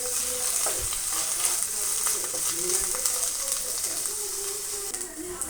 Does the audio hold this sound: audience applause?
no